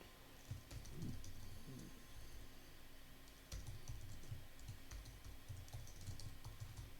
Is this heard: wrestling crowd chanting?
no